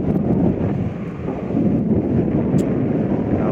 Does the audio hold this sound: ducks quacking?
no